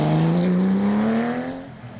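A Nissan 370Z rally car accelerates hard out of a hairpin with wheelspin, its engine note climbing steadily in pitch, loud and close before fading slightly as it pulls away.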